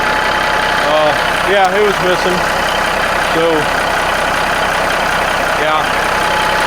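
A 1985 Freightliner FLC truck engine idles steadily up close, its low diesel rumble continuous while someone speaks briefly over it.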